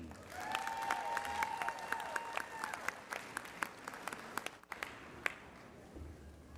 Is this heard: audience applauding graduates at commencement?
yes